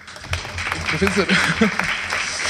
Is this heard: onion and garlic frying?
no